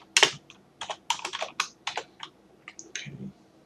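A source-code comment is typed on a computer keyboard in a sequence of close, crisp key clicks in short uneven bursts with brief pauses between them.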